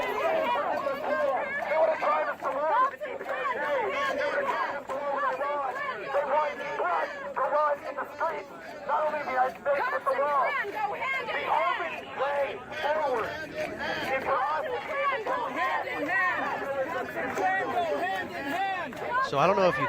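Protesters at a White House face-off keep yelling in a sustained roar of overlapping shouted voices, close and loud throughout, rising and falling in waves without letting up.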